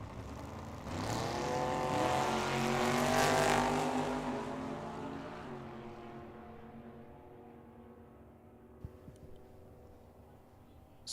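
Hot rod drag racing time trial with a 1984 third-generation Camaro and a Chevy Chevelle, a loud roaring engine pass that peaks early and then fades away into the distance.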